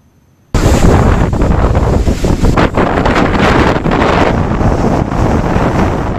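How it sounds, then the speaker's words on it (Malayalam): Cyclone Yaas drives strong winds and surf onto the Odisha coast, a loud, unbroken roar of gusting wind buffeting the microphone and crashing waves, starting abruptly after a brief quiet moment. "ഒഡീഷ, ബംഗാൾ തീരങ്ങളിൽ കനത്ത നാശം വിതച്ച യാസ് ചുഴലിക്കാറ്റ്"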